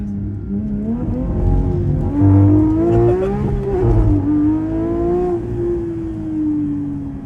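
A Porsche GT3 engine revs and accelerates up close, its rising, sustained drone swelling in the middle and holding steady to the end with no talking.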